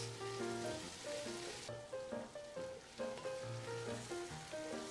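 Vegetables cooking in a pan for braised short ribs, a faint continuous sizzle like light rain beneath background music, with no talk.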